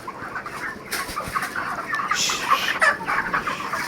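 A flock of 35-day-old chickens cluck and murmur steadily at close range, chattering on and off with no one talking.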